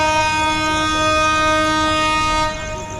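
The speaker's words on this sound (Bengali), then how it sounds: "ট্রেন ছেড়ে দেওয়ার পরে কিন্তু হুইসেল দিল" The Padma Express sounds a long, steady, loud horn at night just after pulling out, the sustained tone dropping off near the end over rumbling rail noise.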